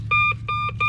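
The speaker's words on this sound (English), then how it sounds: "because my metal detector, it's still freaking out" Metal detector beeping over a buried nail at old mill ruins, giving a steady run of sharp, bright electronic beeps in quick pairs over a low hum, with no voices.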